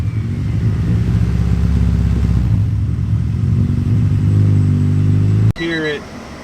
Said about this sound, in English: You hear that little flutter? Something's wrong.